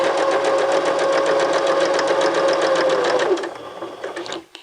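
A sewing machine stitching fabric: a steady, rapid mechanical whir of stitches close up that slows after about three seconds, then a few last stitches before it stops.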